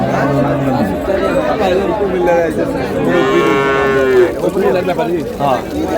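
Dairy cows and calves low and moo loudly at the Raniganj cattle market in Dinajpur, a long, drawn-out call rising above steady crowd chatter and background voices.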